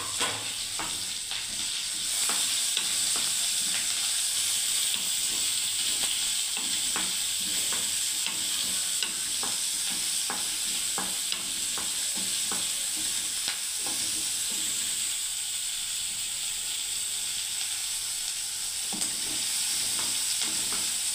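Onions and green chillies sizzle steadily in hot oil with curry leaves for a green moong fry, with frequent sharp scraping clicks of a spatula stirring the pan throughout, close and even in level.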